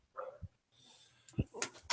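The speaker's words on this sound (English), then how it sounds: "he's got a bark and a half. Well, you heard part of it." A terrier mix dog lets out a few short, sharp barks and yips, spaced unevenly across a brief moment, fairly close with quiet gaps between them.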